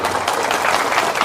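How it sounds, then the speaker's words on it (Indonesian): An audience at a religious sermon bursts into applause, a dense, loud, continuous wash of many hands clapping close together with no pauses. "Coba tepuk tangan dulu."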